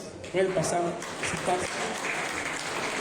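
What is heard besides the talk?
audience applause for colleagues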